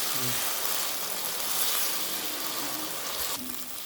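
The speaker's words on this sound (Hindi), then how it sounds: "देखिए जी कीमा हमारा अच्छी तरह भुन गया है।" Keema minced meat frying in a pan gives off a steady, soft hiss of sizzling up close, with a faint clink partway through.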